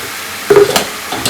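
Onions frying in a pan while being stirred for a tomato and brinjal curry, a loud close sizzle with a few quick scraping stir strokes.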